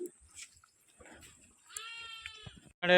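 A few bleats from sheep and lambs, nearby, the loudest one right at the end, with scattered rustling and faint background noise between.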